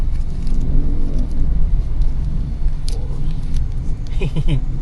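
Road traffic outside a Robinson mall, a constant low rumble of car engines idling and creeping close by, steady and fairly loud, with brief voices underneath.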